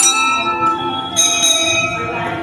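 A Hindu temple bell rings out with a bright, sustained metallic tone, struck again partway through so the ringing swells before slowly fading.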